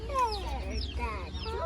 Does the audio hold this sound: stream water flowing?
no